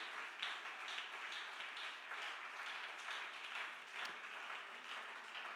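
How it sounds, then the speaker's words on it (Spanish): A church congregation applauds steadily and fairly loudly throughout, a dense continuous wash of many hands clapping with no speech. "Dele ese aplauso al Señor, hermano"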